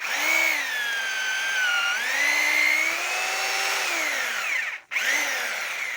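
A rotary hammer drill with a worn chuck whines steadily up close, its pitch sagging and rising under load, with one brief cut-out near the end.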